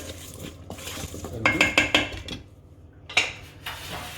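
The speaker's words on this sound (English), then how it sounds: "We're just gonna give this a quick mix so everything's coated in the oil" Vegetables being tossed with oil and sea salt in a bowl, giving close clattering scrapes and clinks of utensils against the bowl in uneven bursts, with a short quiet gap before one last sharp knock.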